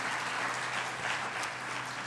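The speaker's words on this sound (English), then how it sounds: "So I think everyone gets a round of applause." Steady, dense applause from an audience at a reproductive freedom town hall, loud and continuous without pause, like a whole room clapping at once.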